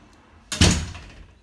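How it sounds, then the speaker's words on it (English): A door shut with a single solid thud at close range, its dull boom fading out over about a second in an otherwise quiet room. "Close the door"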